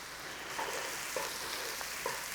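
Onions softening in a pan for a corned beef and cabbage pie, a steady low sizzle with faint soft stirring taps at intervals, no voices.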